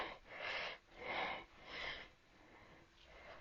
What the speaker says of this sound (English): Doing a bit of heavy breathing now.